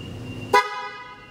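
A loud PIAA aftermarket car horn fitted alongside the stock horn gives one short, strong blast that rings on and fades, standing clear over faint background noise with no talk.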